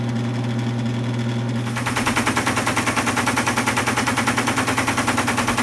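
Paper tape reader on an Altair 680 computer, with dispensing and take-up spools: a steady hum gives way to a loud, rapid, evenly repeating mechanical clatter that continues to the end.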